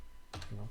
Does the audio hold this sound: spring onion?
no